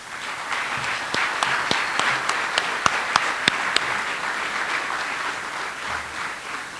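An audience applauds at a National Technical Honor Society induction ceremony, a dense, steady wash of clapping heard from a distance, with a few sharper individual claps standing out in a run near the middle.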